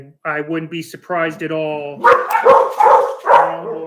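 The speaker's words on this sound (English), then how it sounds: "I'm sorry about the dogs barking" Several dogs bark and yip close by in short, irregular bursts, heard after a man's brief spoken remark and continuing over the rest of the moment.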